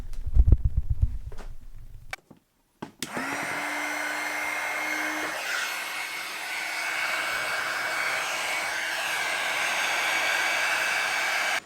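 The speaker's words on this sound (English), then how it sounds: "get closer to the vacuum cleaner so that I've got the most" After a few knocks and a brief pause, a vacuum cleaner switches on and runs with a steady, loud whooshing roar.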